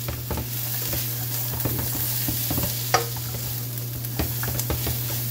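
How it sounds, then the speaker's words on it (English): Carrots going into a hot pan of chicken curry, a steady close sizzle with repeated scraping stirs and clinks of a utensil against the pan, no talking. "I'll just throw in the carrots because they're hard."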